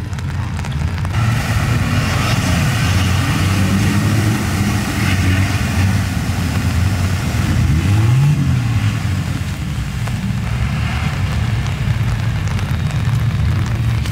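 A 4x4 vehicle's engine labors and revs while crawling an off-road course in Costa Rica, a steady loud drone with a rising surge near the end, no talk over it.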